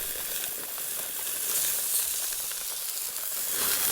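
Steady bright sizzling of food cooking over an outdoor fire in the Yukon, close and continuous with a soft hiss throughout and no voices.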